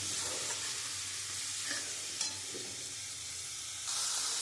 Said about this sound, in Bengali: দিয়ে আমি মশলাটা দিয়ে খুব সুন্দর করে আমি কষিয়ে নেব।